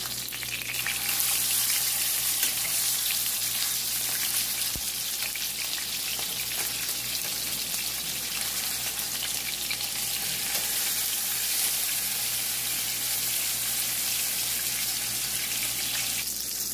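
Salmon frying in a pan, a steady dense hiss and crackle of hot oil that stays even and fairly loud throughout, with no talk.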